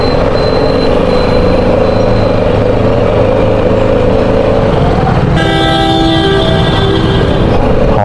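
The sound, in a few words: vehicle horns honking in street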